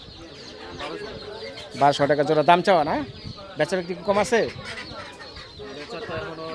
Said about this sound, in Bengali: এখানে দেখতে পাচ্ছেন কিছু মুরগির বাচ্চা